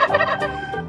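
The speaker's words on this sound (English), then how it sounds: "Yes, it's a turkey." A turkey gobbles in a quick, warbling burst, close and fairly clear, lasting under a second.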